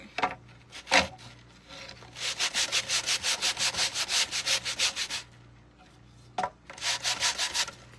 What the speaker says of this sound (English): And I just want to sand it just enough to be able to work on this today.